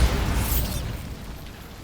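A Bombarda blasting spell goes off in Hogwarts Legacy: a loud, close explosive boom with a bright burst at the start that rumbles away over about two seconds.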